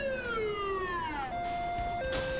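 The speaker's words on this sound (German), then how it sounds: "wenn man als Krankenwagen die Sirene anhat, drehen die alle durch" An ambulance siren in the video game Saints Row The Third wails continuously, its pitch sliding downward and then dropping in steps. The siren stays steady and prominent over a constant background of engine and traffic noise, with no talking.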